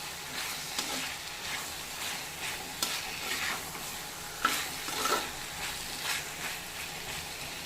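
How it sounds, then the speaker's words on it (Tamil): A spoon stirs potato and mutton together in a frying pan for a Tamil mutton drumstick curry. Steady scraping strokes repeat about once a second over a soft, continuous sizzle, with no one talking. "ரெண்டுத்தையும் சேர்த்து நல்லா கிளறி விட்டுக்குங்க."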